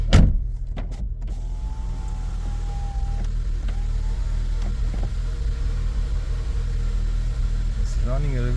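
A VW Golf V Plus with a 1.4 TSI engine idles roughly after its first start in two years, a steady close engine drone with faint voice and cabin noises over it.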